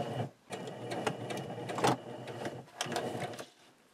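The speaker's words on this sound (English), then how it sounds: "I'm gonna like backstitch across the top." A sewing machine backstitches across the top of a zipper, running in several short rapid bursts separated by brief pauses, close and clear with no voices.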